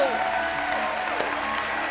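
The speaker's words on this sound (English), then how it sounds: "And give her a massive round of applause." Loud, steady applause from a talent-show audience, a dense continuous wash of clapping with a voice talking over it throughout.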